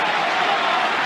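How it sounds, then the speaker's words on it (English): Crowd at the 2022 French Open tennis match between Nadal and Djokovic, a dense, steady wash of applause and cheering that holds loud and unbroken throughout. "Wow, listen to that crowd."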